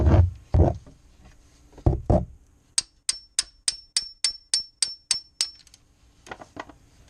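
A hammer strikes metal underneath a Chrysler 200C during an oil change, first a few heavy thuds, then a rapid run of about a dozen sharp, ringing metallic blows, followed by a couple of softer knocks.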